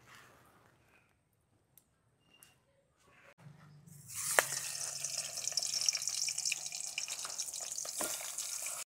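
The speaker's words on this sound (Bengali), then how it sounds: "মাছের মাথাটা ভাজা হতে থাকুক" Katla fish head dropped into hot mustard oil, near silence giving way to a sudden loud hiss that settles into a steady, dense sizzle, close by.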